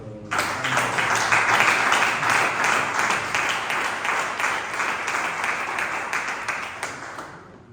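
A church congregation breaks into loud applause, many hands clapping in a dense, steady wash that starts abruptly, holds strong for several seconds and slowly thins toward the end.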